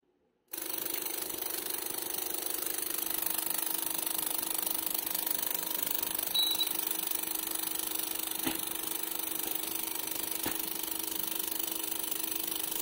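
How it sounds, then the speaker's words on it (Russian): A relay switches on in a ZVS-driven arc circuit, with an abrupt start followed by a steady, even electrical buzz and two faint clicks later on. "Включаем реле."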